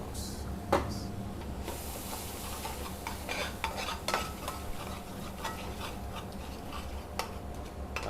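Spices frying in oil in a pan for a chicken tikka madras while being stirred, a soft steady sizzle with scattered scrapes and clinks of the utensil against the pan, fairly quiet.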